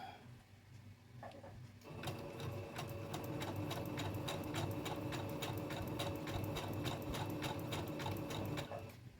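A sewing machine stitches a dog coat, its needle hammering in a fast, even rhythm close by after a brief start, running steadily for several seconds with no voices.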